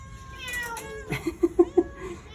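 Rescued cats and kittens meow indoors. A few drawn-out meows come first, then four short, evenly spaced meows rise in loudness close by.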